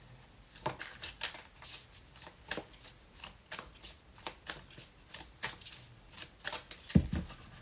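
Tarot cards are shuffled by hand in a rapid run of crisp riffling bursts, close and fairly loud, repeating steadily for several seconds with no talking over them.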